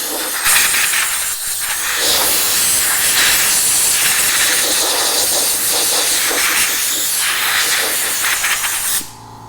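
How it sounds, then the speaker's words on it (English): Continuous loud hiss of compressed air from an air compressor blowing water off a car's surface, sustained for several seconds before cutting off abruptly near the end. "I'm just going to use my air compressor."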